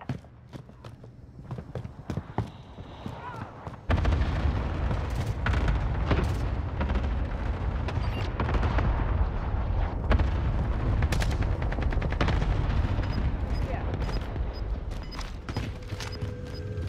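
A cluster strike in Call of Duty: Modern Warfare sets off a rapid rolling barrage of explosions that starts abruptly after a quieter lead-in, dense booms and cracks thundering on without pause.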